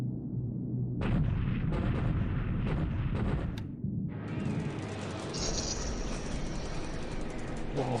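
Bombing of an airfield in the Pacific war strategy game War in the Pacific: Admiral Edition, with dense rumbling blasts and bursts of gunfire-like booms filling the stretch, a loud sustained layer of explosions and crackle throughout.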